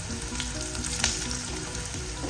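Whole spices frying in hot oil over a very high flame give a dense, continuous crackling sizzle with small pops, steady and close throughout.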